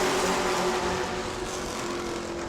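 Pro trucks at New Smyrna race under green flag with ten laps to go, a loud, continuous engine roar with a steady tonal hum holding at close range throughout.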